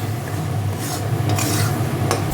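Potatoes are stir-fried in oil in a pan for a Bengali egg curry, with a steady close sizzle and scraping spatula strokes rasping across the pan at intervals, no voices present.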